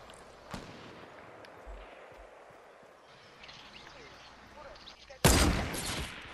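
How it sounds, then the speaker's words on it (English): Gunfire in a shooting video game, with a faint shot near the start and a loud burst of rapid fire toward the end over a low background rumble. "I got people shooting at me"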